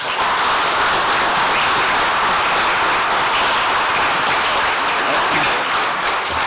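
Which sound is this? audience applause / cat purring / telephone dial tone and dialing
audience applause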